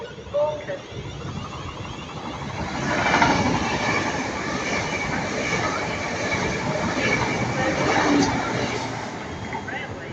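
Class 807 Avanti express passing through Stafford station on the London Euston to Liverpool Lime Street route, a loud rushing roar with rhythmic wheel clatter and rail squeal that swells and holds for the whole passage.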